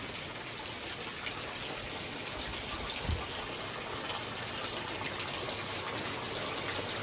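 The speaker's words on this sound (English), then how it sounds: "And that rain's picking up too." Heavy rain pours down in a severe thunderstorm with gusty winds, a dense, steady wash of sound that holds without break and has no voices over it.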